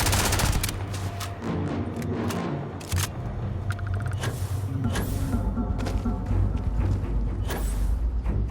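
Loud gunfire in Starfield, rapid bursts and sharp cracks running throughout with scattered heavier impacts over a busy combat background.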